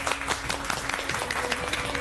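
Audience clapping welcomes the chief guest at a village function, steady dense applause filling the whole moment.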